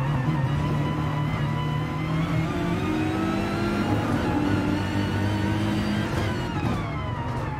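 An Audi race car in Gran Turismo Sport powers out of a corner at the Nürburgring GP, its engine revving steadily and loudly throughout with rising gear tones, no talk over it.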